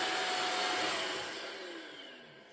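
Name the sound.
Ultenic U16 Flex cordless vacuum cleaner suction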